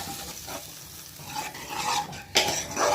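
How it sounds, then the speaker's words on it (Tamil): A fish curry in a pan is stirred after tamarind water is added, giving soft scraping and light clinks of a utensil against the pan over a faint sizzle, close and fairly quiet. "இதை மிக்ஸ் பண்ணிக்கலாம்."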